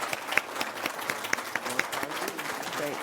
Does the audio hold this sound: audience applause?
yes